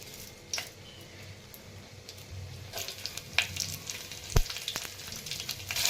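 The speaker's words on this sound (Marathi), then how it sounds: "त्यामध्ये तूप टाकून घेत आहे जिरे" Cumin seeds sizzling in hot ghee, a steady soft crackle with scattered sharp pops and ticks, close and moderately quiet, no voices.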